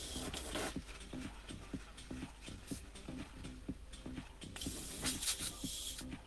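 An airbrush sprays paint into a spit cup while an RC car body shell is being custom painted: a soft, steady hiss broken by quick rhythmic bursts and clicks, close up and without talk.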